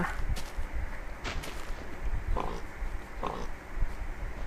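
A few short Minecraft pig grunts pop up at intervals over a low, rustling background, fairly close and moderately loud.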